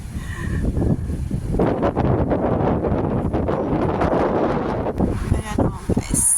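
Strong night wind in Tung Chung, Hong Kong buffets the microphone in loud, rough gusts with rustling leaves, while a person talks over it.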